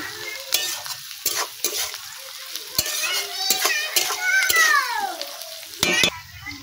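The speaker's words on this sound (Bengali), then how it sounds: "পেঁয়াজটা অনেকটা ভাজা ভাজা হয়ে গেছে" Onions sizzle in a pan with salt, fried for chicken curry, as a utensil scrapes and knocks against the pan in repeated sharp stirring strokes over the steady crackle.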